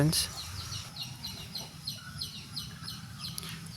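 Chickens cluck and call outdoors at a guppy fish farm in short repeated bursts, with faint chirps and a low rumble of background noise.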